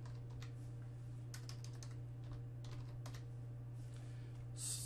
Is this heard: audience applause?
no